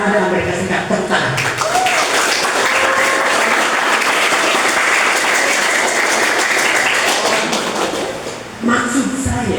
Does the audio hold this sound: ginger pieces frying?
no